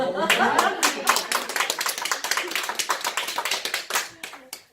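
A group of people clapping together, brisk and close, sustained for several seconds before tapering off.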